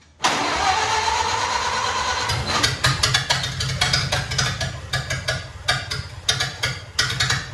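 A Ford Model A barn find cranks with a steady whirring starter, then its engine catches and runs in rough, uneven popping bursts on its first start in decades. The sound is close and loud.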